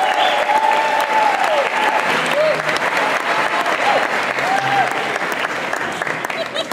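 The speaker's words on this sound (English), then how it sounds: "let's give a round of applause" Sustained audience applause fills a senior banquet hall, loud and steady throughout, with a few voices rising briefly over the clapping before it gradually tapers.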